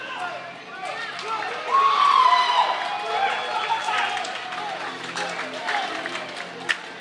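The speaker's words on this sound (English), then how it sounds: "Wes getting that crowd pumped up." A wrestling event crowd roars and cheers as wrestler Wes Warren makes his entrance, a dense, sustained wash of voices that swells midway, with a commentator talking over it.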